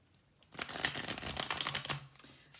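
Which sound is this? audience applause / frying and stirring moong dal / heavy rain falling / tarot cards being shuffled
tarot cards being shuffled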